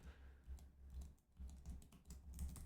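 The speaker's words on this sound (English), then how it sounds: "Now I'm just going to use my tab and arrow keys to move around here." Keyboard keys tapped at a steady pace, with tab and arrow keys used to move between on-screen elements: a series of soft, close clicks and thumps, with no voice over them.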